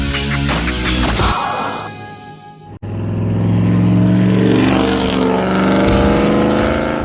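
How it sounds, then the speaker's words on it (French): A Ford Mustang Shelby GTSC muscle car drives with loud close engine drone, pulling through revs, dropping briefly at a gear change around the middle, then building again. "On est parti pour quelques kilomètres à bord de cette Mustang Shelby GTSC"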